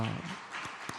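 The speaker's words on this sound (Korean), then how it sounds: "박수 한번 보냅시다" Applause from a church congregation thanking the accompanist, a diffuse burst of clapping that follows a brief voice at the start and continues steadily at moderate level for about a second.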